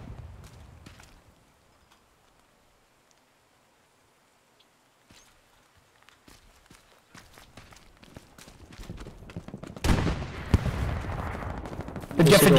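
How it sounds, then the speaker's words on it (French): Gunfire in the WWII shooter Hell Let Loose: footsteps and scattered distant shots build into dense, louder bursts of rifle and machine-gun fire toward the end. "Faites gaffe, ça tire."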